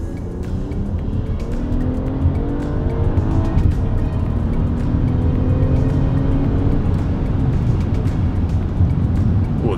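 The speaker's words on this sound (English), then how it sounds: "we're gonna see if you can hear this engine, because I think this engine sounds pretty good and it deserves to be heard" A 2019 Toyota Camry XSE engine accelerating hard, its rising revs climbing in repeated sweeps as it pulls up through the gears, loud and close with road and wind noise underneath.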